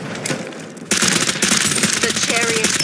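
Automatic gunfire in the shooter game Farlight 84 blasts in a sustained, loud rapid stream after a short quieter lead-in, with faint in-game voice cues underneath.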